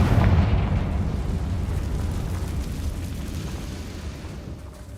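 A Confringo spell blast in Hogwarts Legacy, one loud booming explosion up front that rolls into a long rumbling roar slowly fading over several seconds, with no talk.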